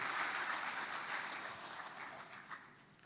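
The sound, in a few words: audience applause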